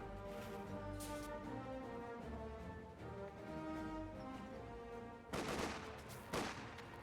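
Small-arms fire crackles in the wartime strategy game Company of Heroes 2, with scattered shots under a sustained droning battle ambience and a louder cluster of sharp reports near the end.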